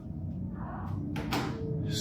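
A door closes in a spooky setting, a brief broadband thud-and-swish standing out near the middle of a steady low rumble, fairly close.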